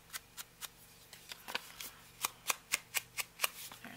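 Scissors trim paper for a small cinch-bound journal in a quick series of crisp snips, close and fairly quiet, the cuts coming in an uneven rhythm that speeds up toward the end.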